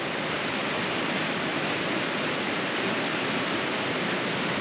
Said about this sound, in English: Beside a river.